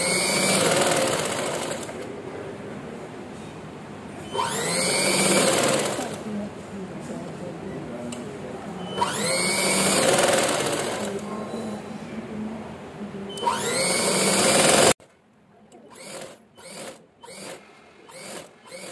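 A sewing machine runs a joining seam around a boat neck long frock in repeated close, loud bursts of stitching, roughly every four seconds with short pauses between, while a voice speaks in the gaps.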